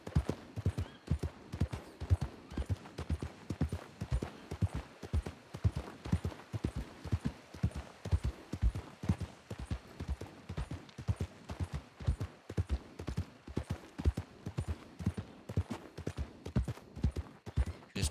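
Horse hooves clip-clop steadily and quickly in a western video game, a dense, even rhythm of close, crisp hoofbeats lasting throughout.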